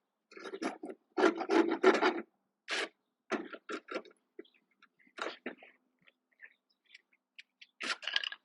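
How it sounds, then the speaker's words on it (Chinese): A dull file rasps across wood during a backyard fence gate repair, in bursts of quick strokes with short pauses, close and fairly loud, then thinning to sparse light scrapes and taps. "锉刀比较钝。"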